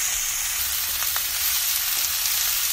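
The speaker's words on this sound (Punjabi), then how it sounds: "ਹੁਣ ਪਾਵਾਂਗੇ ਅਸੀਂ ਡੰਡਲ। ਇਹਨੂੰ ਵਧੀਆ ਤਰੀਕੇ ਨਾਲ ਮਿਕਸ ਕਰਾਂਗੇ" Cauliflower stalks sizzle steadily in a hot pan, a constant frying hiss with occasional soft scrapes of stirring, close and alone without any voices.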